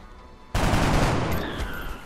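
A burst of rapid gunfire from the video game XCOM erupts suddenly and loudly, then rings out and decays over a couple of seconds.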